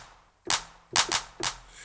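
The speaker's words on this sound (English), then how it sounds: "Let's take this 909 clap right here." A Roland 909 clap sample is triggered in Maschine, sounding as four sharp, bright claps in an uneven pattern, close and dry, with brief decays between hits and no talking.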